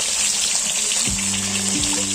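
Rohu fish frying in oil next to a pot of rice boiling on the same stove, giving a steady loud sizzle and bubble with a few low clunks.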